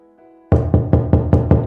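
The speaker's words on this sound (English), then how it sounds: "someone pounded on the front door of her apartment" Heavy fists pound on the front door of an apartment in six loud, evenly spaced knocks, close and booming, after a brief faint tonal hum.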